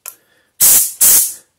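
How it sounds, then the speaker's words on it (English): Two short, loud bursts of compressed air spraying from a can, each a sharp, forceful hiss that fades quickly, separated by a brief gap. "So you can use compressed air in the can"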